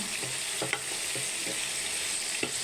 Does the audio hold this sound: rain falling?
no